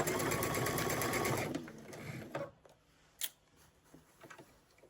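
A sewing machine stitches a sweater sleeve with a rapid, steady whir. It stops partway through, and a few faint clicks and handling noises follow.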